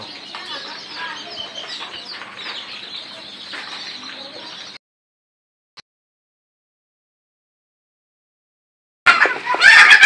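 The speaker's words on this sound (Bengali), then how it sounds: "তো এগুলো হচ্ছে লেয়ার মুরগি" A flock of layer hens clucks steadily in a busy, noisy poultry coop, then sudden quiet, before a loud burst of sound at the end.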